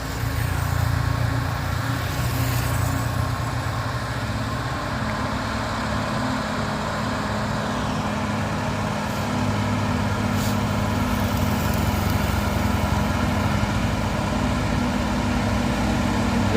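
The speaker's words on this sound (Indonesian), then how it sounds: "Ini ada truk Fuso orange." An orange Mitsubishi Fuso truck engine on a steep climb, a low, continuous diesel rumble holding steady at moderate loudness with no talk over it.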